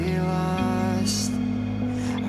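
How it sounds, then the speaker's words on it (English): Layered clean electric guitars in a rock song mix: at least three parts, two picking figures and a main melody, sustaining steady bright tones with a pitch shift partway through, no talking. "So what you're hearing there is actually at least 3 guitars."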